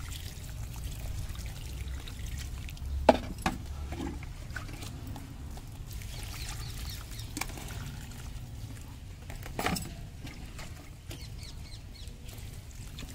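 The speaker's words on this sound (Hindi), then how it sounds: "उसके बाद इसको मैं पानी दे देती हूँ" Water poured onto prepared potting soil for portulaca and purslane cuttings, a soft low trickle and splash with a few brief louder spills, heard alone without talk.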